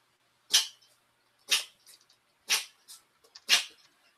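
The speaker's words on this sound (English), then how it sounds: "That was the cat sneezing in the background" Four quick, sharp sneezes from a cat, evenly spaced about a second apart, each followed by a faint snuffle, close by and otherwise quiet.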